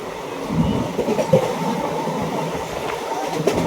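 Inside a moving passenger train, a steady low rumble of wheels on rails carries a few soft clacks and rattles, even in loudness and with no one talking.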